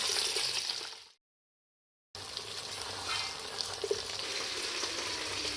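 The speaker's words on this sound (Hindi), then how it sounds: "आधा किलो भिंडियाँ हैं, वो हमने इसमें डाल दी। इनको भी हम फ्राई कर लेंगे।" Steady sizzling of okra (bhindi) frying in a pan, crackling and bubbling, with a brief moment of complete silence partway through.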